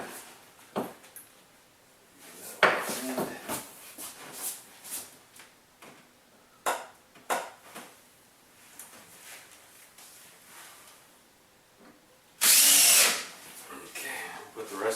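A power drill drives screws into an overhead camera boom mount in several short, loud whirring bursts, with one sustained bright burst near the end and quieter handling sounds between them.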